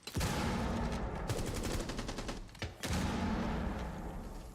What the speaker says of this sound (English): That's a nade that goes off